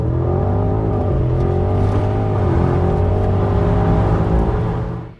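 Porsche Cayenne Turbo GT engine revving loudly through its exhaust, a close, sustained roar with rising and falling harmonics that holds steady before cutting off at the end.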